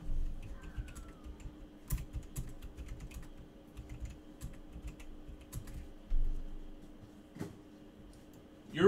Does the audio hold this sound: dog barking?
no